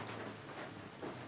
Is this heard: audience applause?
no